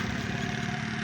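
A scooter engine on a village road beside the Ravi river, heard as a steady, close, droning hum that holds an even level throughout, with no voices.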